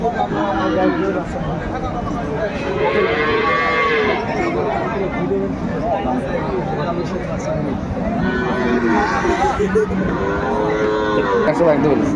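Dairy cows and calves of improved breeds at a busy rural cattle market in Dinajpur, with loud repeated moos rising over a constant crowd hubbub and nearby talk throughout.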